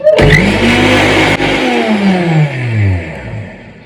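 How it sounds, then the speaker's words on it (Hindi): A kitchen mixer grinder runs loud and steady, grinding roasted rice into powder, its motor whine rising then gradually dropping in pitch as it winds down, with no talking over it. "तो इसको पीस रही हूँ, चावल को जो भूजी थी"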